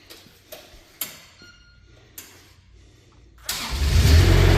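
A Kubota diesel engine on a 2024 Manitou TMM45 4W telehandler cranks and fires up. A few sharp ticks and clunks come first, then the engine catches and settles into a loud, steady, close running rumble.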